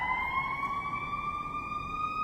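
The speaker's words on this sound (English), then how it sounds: "You may think those sirens are Israel rocket sirens, but I'm actually in Miami on a business trip." Emergency vehicle sirens on a Miami street, a steady high wailing tone with harmonics held over low traffic rumble, moderately distant and continuous.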